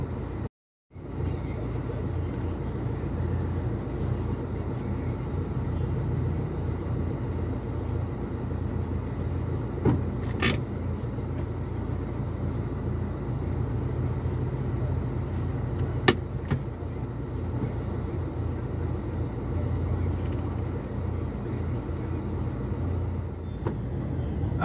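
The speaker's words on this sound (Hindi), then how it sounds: "फुल ट्रैफिक जाम है दोनों की तरफ" Heavy traffic crawls in a jam on a bridge in Bhiwandi, India, producing a continuous engine drone with a few sharp bursts cutting through.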